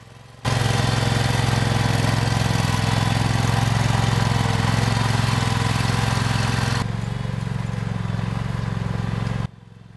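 An Oggun tractor running steadily with an underbelly cultivator and backwards-mounted hilling discs shaving down potato hills in Alaska, a loud, even engine drone that drops slightly in level near the end before cutting off.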